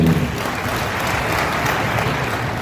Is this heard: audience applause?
yes